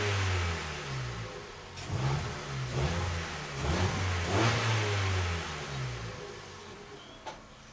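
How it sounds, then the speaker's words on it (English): A 2011 Ford Fiesta 1.25 Zetec petrol engine with an O2 sensor circuit fault is revved repeatedly from idle, several rising and falling mid-pitched surges up close, ending in a short sharp knock. "Let's rev it"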